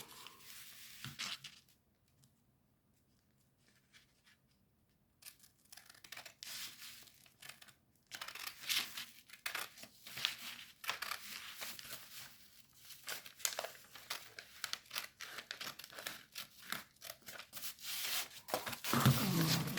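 Paper is cut and crumpled up close in a quiet room, dense crinkling and tearing bursts running through most of the stretch after a near-silent opening, with no speech.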